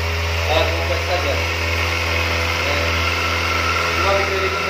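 A 2021 Kawasaki ZX25R ABS motorcycle engine runs at a steady, close idle, a continuous even drone with slight flutter and no revving throughout.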